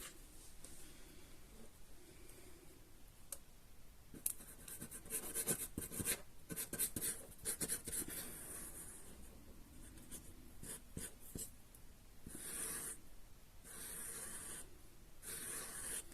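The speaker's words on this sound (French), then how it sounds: "On met de la colle tout le long." Glue laid down along a handmade paper flower bouquet, soft scratchy scraping and rubbing that comes and goes in short strokes, with brief hissing bursts near the end and no talking.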